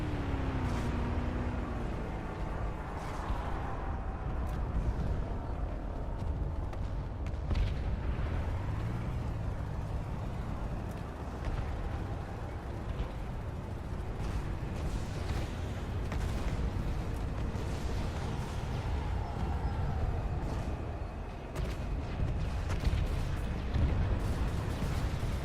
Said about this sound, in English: With all the tracer fire and explosions, it can be a very disorienting time for a soldier to be on the front lines.